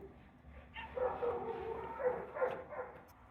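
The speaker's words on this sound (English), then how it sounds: "Dogs are going nuts because there was an armadillo on the other side of the fence." Several dogs bark excitedly at an armadillo on the other side of a fence, a rapid run of overlapping barks with no talk.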